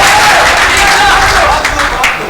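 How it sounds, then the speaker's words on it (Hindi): Applause from an audience at an all-India mushaira poetry gathering in Dhule, a loud, dense wash of clapping that fills the whole moment close up, with a voice speaking over it. "अच्छा लगा हो मतलब तो तालियां बजाकर बताएं"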